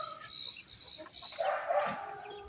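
A mestizo labuyo jungle fowl rooster gives a faint, somewhat distant crow and a few clucks against a steady hiss of background noise.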